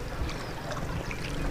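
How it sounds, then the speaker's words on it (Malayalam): Wooden rowboat moving through water as it is rowed in to park between moored boats, with steady close splashing and a wash of water and wind noise, no talking. "ഗൈസ് നമ്മൾ പാർക്ക് ചെയ്യാനായിട്ട് പോവുകയാണ് വള്ളം."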